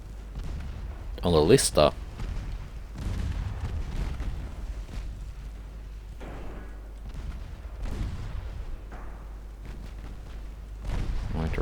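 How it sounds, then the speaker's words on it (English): Warship secondary guns fire in Ultimate Admiral Dreadnoughts, with a loud burst of booms near the start, then softer scattered distant reports, mixed with a quiet voice. "Secondaries are in range and opening up"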